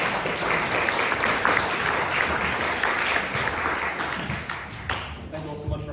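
Steady, dense audience applause for a musician at an Ethical Society event, sustained clapping from a room full of people that thins out near the end as a voice begins.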